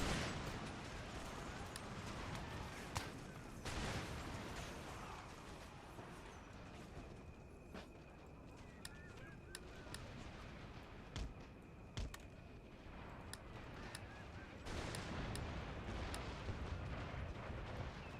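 Cannon fire in Empire: Total War with the Imperial Destroyer mod, Prussian army battle, booming shots repeating irregularly over a dense, constant battlefield din with scattered sharp cracks.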